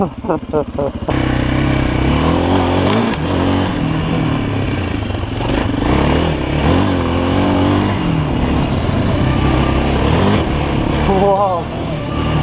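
A GEON Scrambler 250 motorcycle ridden over bumpy road: a loud, steady engine drone with shifting revs and wind rush all the way through, and excited voices now and then over it.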